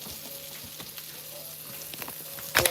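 Vegetables for a shepherd's pie sizzle softly in a pan, heard up close as a faint, even crackle with a few light ticks and a brief louder clatter at the end.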